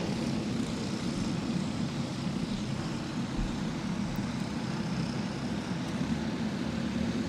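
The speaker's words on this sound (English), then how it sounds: "the top 4 karts breaking away all within a kart length of each other down the front stretch" Field of fifteen racing karts roaring past on the front stretch of Golden Spike Speedway in Blue Earth, Minnesota, a dense continuous engine drone with no pauses.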